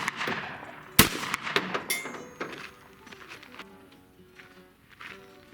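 A shotgun fires a reloaded Federal Hi Bird shell: one sharp, loud report, quickly followed by clinks and handling clatter that fade into quieter background noise.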